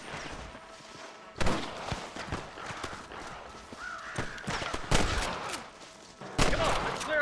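Gunfire rings out in a Red Dead Redemption shootout, with sharp shots and short bursts scattered over about seven seconds, some loud and near, others fainter, amid game ambience, hoofbeats and brief character voices.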